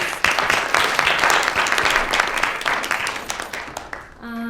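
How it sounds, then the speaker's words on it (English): An audience applauds a discussion panel steadily for several seconds, a dense wash of clapping that fades out before a brief tone at the end. "One more round of applause for them, please."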